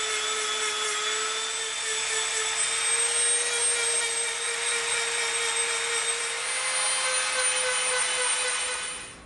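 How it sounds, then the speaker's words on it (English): A Dremel rotary tool bevels the edge of EVA foam for a prop blaster, giving a steady, loud high-pitched whine that holds almost unchanged for about nine seconds before spinning down at the end, with no speech. "we're going to get our gloves and our dust mask on and we're going to Dremel this"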